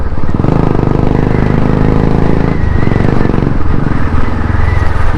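Loud, close vehicle engine running continuously with a deep throbbing rumble and a slight rise in revs, filling the whole stretch without a break.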